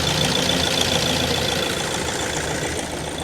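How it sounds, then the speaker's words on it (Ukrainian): A 2013 Renault Megane's 1.6 dCi diesel engine idles evenly up close, a constant loud clattering hum with no speech over it. "Ось так виглядає двигун наш, все працює рівно."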